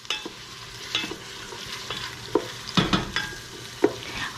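Onion sizzling in hot oil over medium-high heat while being stirred, with a steady frying hiss broken by several sharp scrapes and clacks of the utensil against the pan, close and fairly loud, no talking.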